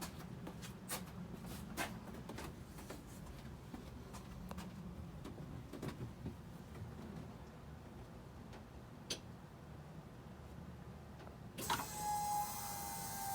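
A C8 Corvette's fuel pump primes as the ignition is cycled: faint scattered ticks and clicks in a quiet car, then a sudden whirring hum near the end.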